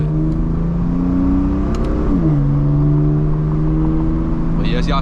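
A BMW F82 M4 engine runs shortly after a cold start, a loud close drone with steady tones that rise and dip as revs change, and faint clicks near the end.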